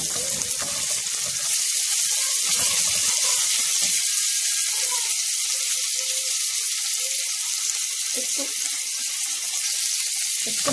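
Garlic for a home-cooked Egyptian lunch fries in a pan with a steady, loud, close hissing sizzle that holds throughout, a few faint clinks and stirs showing through underneath.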